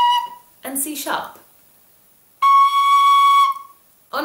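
A D tin whistle sounds a short note, then a brief spoken voice, then a longer, clear, steady whistle note, a C natural, held for about a second.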